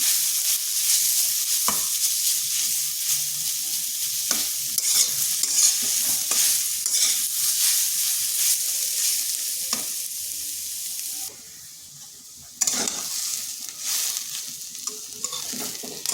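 Sliced radish fries and sizzles steadily in a hot pan, with a spatula scraping and stirring at intervals, close and continuous, briefly quieter near the end.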